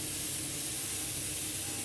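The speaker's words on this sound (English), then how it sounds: "I'm still getting a little bit of a coarseness to my spray, as you can see here, and it's very splattered" HVLP paint spray gun spraying at lowered air pressure, about 25 psi, a steady, close, broadband hiss holding evenly throughout with no talking.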